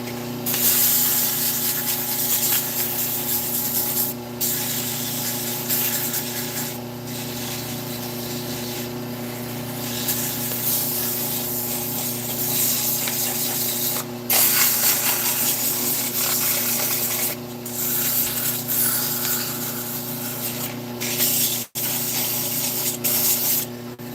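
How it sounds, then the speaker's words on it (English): A wooden piece spinning on a woodturning lathe is sanded, producing a continuous loud abrasive rasp over the steady hum of the lathe, with brief dips and no talking. "So just a little sanding"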